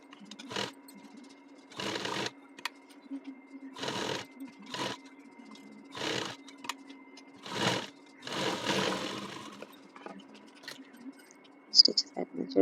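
Sewing machine stitching a cut-work shape around a blouse neckline, running in a series of short bursts of about a second each with pauses between, close and moderately loud over a low steady hum.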